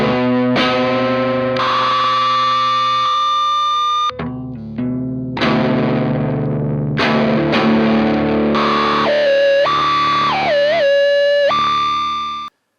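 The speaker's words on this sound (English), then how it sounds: "creating a feedback loop and all sorts of noises, oscillations and squeals" A homemade feedback looper guitar effects pedal, its output routed back to the input through a potentiometer, produces loud distorted drones, warbling oscillations and sliding high squeals, with a brief dip and shifting pitches throughout.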